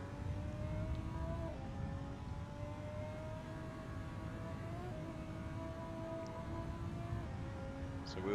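Steady engine drone of GT race cars in a video game at Road America, a continuous hum with shifting tones as several cars run together, no voices.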